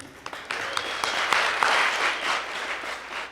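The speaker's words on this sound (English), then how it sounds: "So give yourselves a round of applause for everyone that performed." Audience applause with clapping at a poetry slam, a dense, steady burst of many hands ringing out through the room with a few sharper individual claps near the start.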